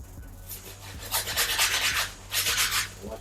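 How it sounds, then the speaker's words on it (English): A hard bristle brush scrubs a Jordan 7 sneaker sole with cleaning solution, rhythmic rasping strokes in two close, loud bursts with brief pauses between, no talking. "We're going to start with the hard bristle brush. Clean at the bottom."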